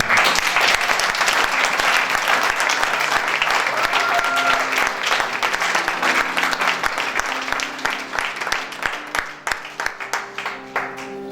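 A church congregation applauds and cheers loudly and steadily, a dense wash of clapping that thins toward the end into scattered, distinct claps.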